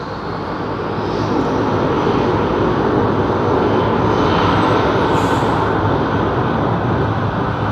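An Iberia Airbus A350 departs London Heathrow, its engines a steady, loud broadband roar that swells slightly and holds throughout, with no voices.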